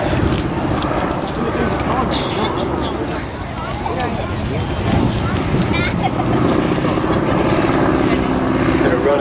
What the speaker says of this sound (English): To line the aircraft up on the display line